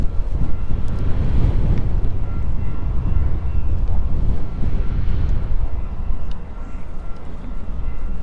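Strong wind buffets the microphone outdoors near the Anfield Road stand at Liverpool, a steady heavy rumble that barely lets up for the whole stretch, with no one speaking over it.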